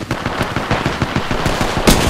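Rapid automatic gunfire in the Apex Legends battle royale game, a fast rhythmic burst of close, loud shots with one heavier blast near the end, and no voices.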